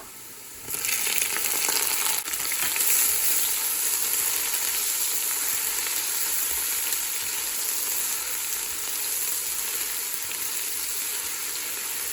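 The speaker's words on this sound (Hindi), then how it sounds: "इसे हम थोड़ा भून लेंगे।" A loud, steady sizzle starts suddenly and holds as ginger garlic paste fries in hot oil in a pan, with a faint crackle running throughout.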